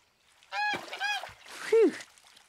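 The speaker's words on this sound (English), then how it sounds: "That's a goose, but it's a different goose." A cartoon goose honks several times in quick, nasal bursts, close and loud, the last honk lower and longer.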